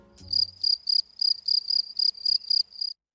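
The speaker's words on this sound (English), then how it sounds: "Gryllus campestris, the European field cricket, is known for its deep and rich tone" A European field cricket (Gryllus campestris) chirping alone in about ten evenly spaced, pulsed bursts, clear and close.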